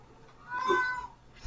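One short cat meow rises and fades within a second, fairly close and on its own against a quiet background.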